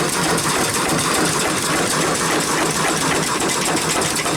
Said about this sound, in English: I like this engine. It's a really nice engine.